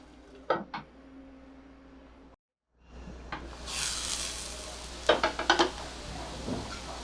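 Appe made from leftover chapati and boiled potatoes fry in an appe pan, a soft steady sizzle that swells after a brief silence, broken by a few close clinks of a utensil against the metal pan.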